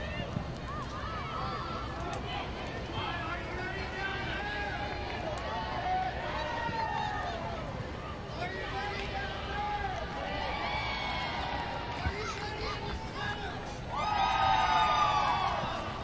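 A crowd at a Florida State women's college soccer match at the Seminole Soccer Complex keeps up a steady babble, with shouts and children's cheers that swell near the end. Voices talk throughout.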